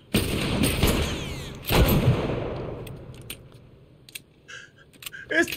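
A sharp, heavy cannon blast in the video game The Last of Us Remastered rings out, then another booming shot a second or so later, each trailing off into a long rumbling decay, followed by scattered clicks.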